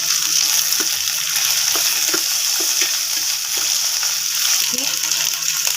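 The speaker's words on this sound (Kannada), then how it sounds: "ಎಣ್ಣೆಯಲ್ಲಿ ಹುರಿದ್ಕೊಳ್ಬೇಕು, ಫ್ರೈ ಮಾಡ್ಕೊಳ್ಬೇಕು" Ingredients frying in oil in a pan for a masala curry give a loud, close, continuous sizzle, broken by small pops and stirring clicks, with no talk over it.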